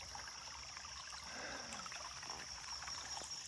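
Creek water trickles and babbles faintly at Pike Creek crossing on a wooded Ozark Trail hike, a soft, steady stream sound with small splashes, distant and quiet with no one talking.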